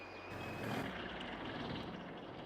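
A truck with a trailer reverses in Farming Simulator 22 on a farm, its engine rumbling steadily while a faint high tone runs through the sound. The noise stays continuous and moderately loud for the whole stretch, with no talking.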